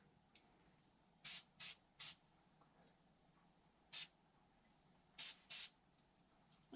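A spray gun sprays epoxy primer onto the floor of a Barracuda car, seven short, sharp hissing bursts, some in quick pairs, near and moderately loud over quiet room tone.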